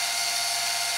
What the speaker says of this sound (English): If you use the drill really slowly, look, you should be getting out, you should be out cuttings like that.